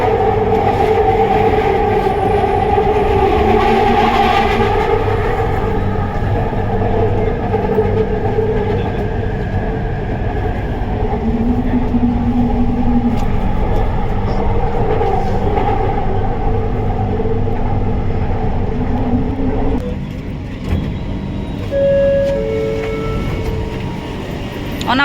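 A passenger train in Malaysia rumbles along with a steady low drone and tonal motor hum, heard from inside the carriage, with faint chatter in the background and a quieter pause with brief beeps near the end.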